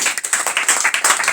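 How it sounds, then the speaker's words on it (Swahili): A church congregation claps together, a quick run of sharp, close hand claps in a loose rhythm that keeps going for just over a second. "Mpe Bwana makofi mazuri."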